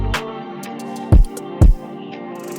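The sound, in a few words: sidechain compression ducking an R&B beat to the kick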